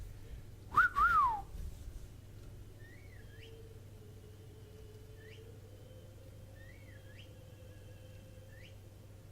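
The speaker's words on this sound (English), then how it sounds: "They changed the whistle." In World of Warcraft patch 8.1, a quest whistle sounds: one loud two-note whistle near the start, then several soft, distant rising whistle chirps repeating over a faint steady hum, with no talking.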